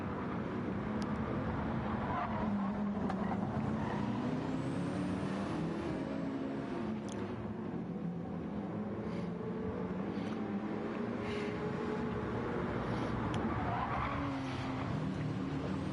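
BMW and Porsche race cars compete at the Nürburgring 24 Hour, with a dense, steady roar of engines and tyre noise that carries on unbroken, heard from trackside at a moderate distance.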